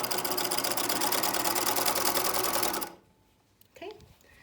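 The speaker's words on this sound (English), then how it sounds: "And I'm going to sew." A sewing machine stitches elastic onto fabric in a steady, loud, fast run of needle strokes for about three seconds, then stops abruptly, leaving quiet room tone and a brief soft rustle or voice near the end.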